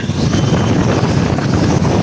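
Strong typhoon wind gusts across Manila Bay by the boulevard footbridge, a loud, continuous roar buffeting the microphone with no letup.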